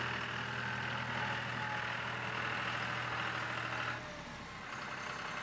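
A John Deere 5055E tractor fitted with a Boss snowplow idles steadily with a low, even engine drone, close by and alone, and the tone shifts slightly near the end.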